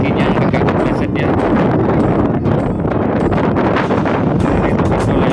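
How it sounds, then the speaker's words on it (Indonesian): Strong wind buffets the microphone outdoors with a constant, loud, roaring rumble and rustle, broken only by slight dips in force, with faint activity behind it. "angin juga cukup lumayan"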